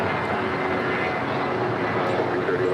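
An airliner on the runway at LAX, runway 25 right, its engine roar loud and steady throughout with a broad rushing drone and no break.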